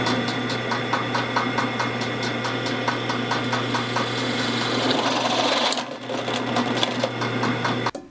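A power drill bores a hole for a homemade sawdust stove, whirring steadily with a fast, buzzing rattle, then briefly easing off and resuming before cutting out at the end.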